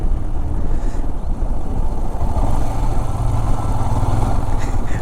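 A motorcycle carries a rider with a passenger along a winding rural road lined with banana trees near Krishnagar, its engine a loud, continuous droning rumble mixed with rushing wind, with no voices.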